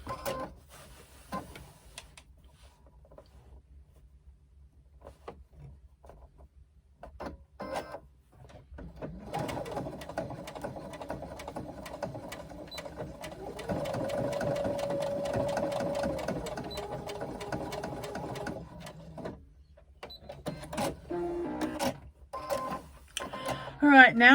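A sewing machine bastes a fabric swim bag with a D-ring tab in place. Scattered short clicks and handling come first, then a steady stitching run lasts about ten seconds before clatter resumes.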